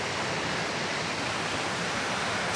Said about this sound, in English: we've made it to a little waterfall down there over yonder